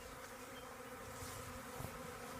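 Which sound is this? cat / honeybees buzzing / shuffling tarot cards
honeybees buzzing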